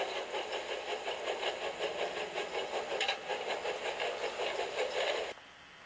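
An animated steam engine chuffs along in a steady, rapid rhythm of hissing puffs, loud and close, running for about five seconds before cutting off abruptly.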